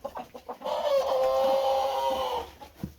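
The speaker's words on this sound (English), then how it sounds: "That was an interesting crow." A rooster crows once in a long, drawn-out, slightly wavering call, framed by short clucks from nearby chickens before and after.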